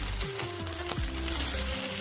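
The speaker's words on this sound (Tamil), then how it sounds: "இப்போ நம்ம வெங்காயம் போட்டுடலாம் உள்ள தாளிக்கிறதுக்கு." Onions dropped into hot oil in a pan for tempering, a steady loud sizzle throughout with light scraping and stirring noises on top.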